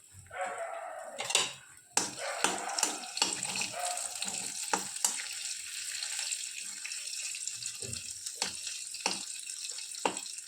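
Butter and ghee melt in a pan for a spiced corn dish, giving a steady, close sizzling hiss broken by sharp clicks and scrapes of a utensil against the metal.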